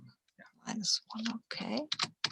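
Keyboard typing clicks in short bursts close by, mixed in with a person speaking briefly.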